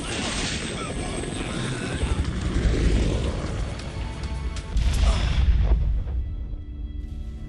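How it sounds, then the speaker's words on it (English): Helicopter in a video game arriving at a mall helipad, a loud, continuous rotor roar with heavy low rumble and crashing bursts, fading out toward the end. "finally, the chopper arrives to come get us the hell out of here"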